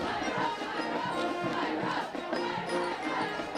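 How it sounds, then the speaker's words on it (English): Crowd at a high school football game cheering and shouting continuously from a distance, a dense roar of voices with no clear band music standing out. "Cheerleaders cheering, the band playing."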